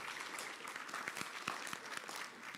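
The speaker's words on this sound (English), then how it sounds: "can we get another big round of applause for all the students that have been participating so far?" Audience applauding students at a university pitch competition, a steady wash of many hands clapping with no voices, fairly quiet and even throughout.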